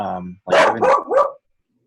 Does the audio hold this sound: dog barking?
yes